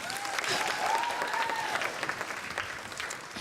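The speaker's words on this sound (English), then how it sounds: "give him a round of applause" A youth-summit audience claps in a sustained round of applause that swells and holds, with faint crowd murmur mixed in.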